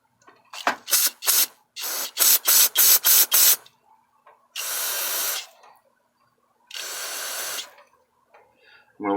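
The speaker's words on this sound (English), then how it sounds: "Spray some of this in here and see if it does anything." Aerosol cleaner sprays into the carburetor of a Kohler Courage engine on a Husqvarna mower, first in a run of short rapid bursts, then two longer sustained hissing blasts, close and loud with no talking.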